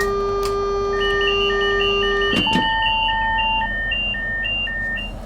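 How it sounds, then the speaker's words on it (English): A passenger alarm sounds in Train Sim World 3 on the St Pancras to Ashford International route, as repeated electronic beeps in a steady rhythm that begin after a brief clunk. A steady cab hum runs underneath throughout. "you could hear the passenger alarm going off for a moment there"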